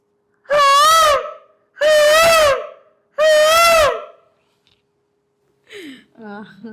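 A voice imitates a peacock with three loud, drawn-out wailing cries in a row, each rising and falling, then a couple of shorter, softer calls.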